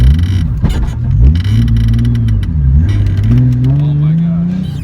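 A Nissan 240SX S14 with a VQ35 engine swap accelerates hard, its engine note rising in a loud, droning pull heard from inside the car, with brief dips at gear changes, and voices speak over it.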